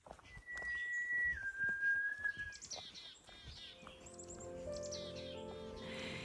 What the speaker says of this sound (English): I hear whistling coming down the path